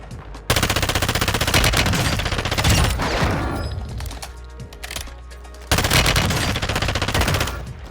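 Rapid automatic FR Advancer rifle fire from the video game Warzone, loud and close, in a dense burst that thins out mid-clip, then resumes sharply near the end, with no voices.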